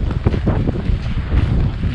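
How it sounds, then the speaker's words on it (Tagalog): Strong wind buffeting the microphone in April in Canada, a loud continuous low roar with gusty surges and no talking. "Lakas ng hangin oh."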